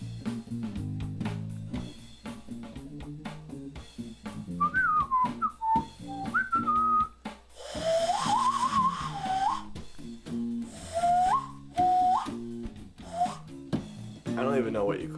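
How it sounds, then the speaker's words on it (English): Cupped hand whistle, a series of airy, breathy pitched notes that slide up and down in short phrases, close and fairly loud, with quiet background sounds between the notes. "I think it's a cupped hand whistle."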